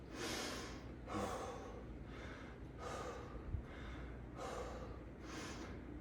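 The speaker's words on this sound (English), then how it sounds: "Let me catch my breath." Heavy, rhythmic gasping breaths follow a hard sandbag and burpee conditioning workout, about six long rasping inhale-exhale cycles, close and loud with no talking.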